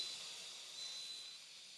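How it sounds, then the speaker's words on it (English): Steam hisses steadily from an Instant Pot during pressure release, a faint, continuous airy rush with no breaks. "This way you won't get direct steam and it won't burn you, because steam is hotter than water."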